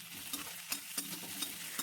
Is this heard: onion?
yes